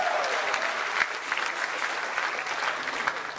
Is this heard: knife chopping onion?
no